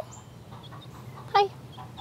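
A rescued pet hen gives a single short, sharp cluck near the microphone over a quiet low hum.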